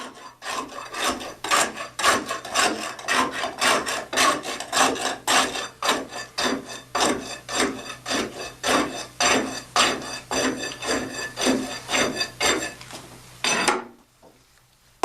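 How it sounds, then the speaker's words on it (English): A tamping rod repeatedly strokes a fresh layer of concrete inside a cylinder mold, giving about 25 steady, evenly spaced rasping thrusts, close and loud, that stop abruptly near the end. "Rod the layer 25 times, making sure you penetrate the first layer by about 1 inch."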